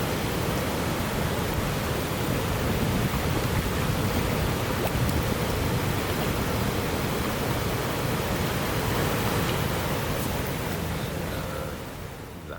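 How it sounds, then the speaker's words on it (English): A steady, broadband roar of falling water from a waterfall in Thunder Bay, close and continuous, fading slightly at the very end with no voices. "It's a nice waterfall to have in town."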